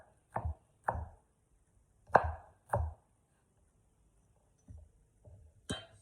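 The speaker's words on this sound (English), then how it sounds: "so then I'm gonna chop them" A knife chops through ingredients on a board in sharp, distinct knocks: four firm cuts at uneven intervals, a pause, then a few softer taps and one final crisp chop in a quiet room.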